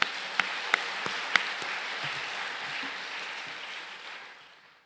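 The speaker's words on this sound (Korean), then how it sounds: "하나님께 영광 올리려 하시면 확실히 박수하시겠습니다" A church congregation at a revival meeting breaks into clapping, a broad wash of applause in a large hall with a few sharp claps standing out early, gradually fading away toward the end.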